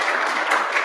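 A brief burst of applause from a community meeting crowd, a soft continuous patter of many hands clapping at moderate distance.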